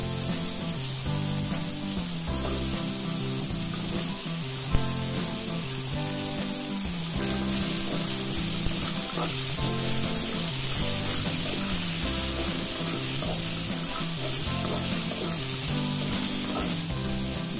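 Mixed vegetables and carrots sauté in a pan for a veg kolhapuri, giving a continuous close sizzle and hiss with faint stirring, over a steady tonal background.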